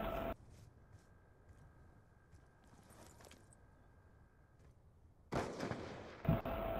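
Gunfire in the video game Call of Duty: Black Ops 2 during a 1v1 match: a short burst at the start, sparse faint pops through a quiet middle, then a louder stretch of shooting near the end.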